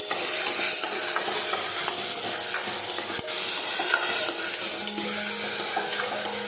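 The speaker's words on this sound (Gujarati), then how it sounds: "હવે આપણે સમારેલા ટમેટા નાખીશું. હવે આપણે સાતળી દઈશું." Chopped tomatoes sautéing in a pan for a green cowpea (lili choli) curry, giving a steady loud hiss and watery sizzle throughout with a few stirring clinks and no talk.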